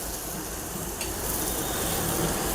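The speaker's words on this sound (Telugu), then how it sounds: "బాగా కారం పచ్చివాసన పోయే వరకు కలుపుకోవాలి." Spices stirred into a frying egg curry masala, a dense, constant sizzle that grows slightly louder, with faint stirring and scraping.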